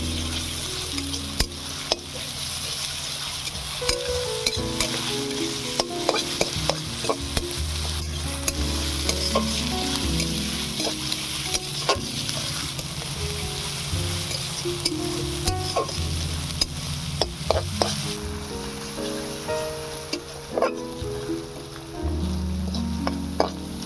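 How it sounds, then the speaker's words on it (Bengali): Chopped onion and garlic paste fry in hot oil, a steady sizzle running throughout with frequent scrapes and knocks of a spatula stirring the pan close by. "পেঁয়াজ রসুনটা লাল করে ভাজা হয়ে গিয়েছে"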